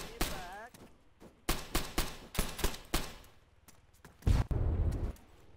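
Gunfire and explosions in the video game ARMA 3: rapid bursts of shots and heavy booms in irregular clusters, ending with a loud sustained blast, with voices talking over the action.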